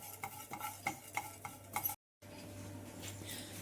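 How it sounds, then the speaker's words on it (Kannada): A spoon stirs fenugreek seeds and cumin being dry-roasted in a pan for a Mysore Brahmin-style tomato curry, giving light scraping clinks and soft crackles up close, broken by a brief silent cut. "ಇವಾಗ 1/4 ಟೀ ಸ್ಪೂನಷ್ಟು ಮೆಂತ್ಯ, ಇದನ್ನು ಚೆನ್ನಾಗಿ ಹುರ್ಕೊಳ್ಳೋಣ."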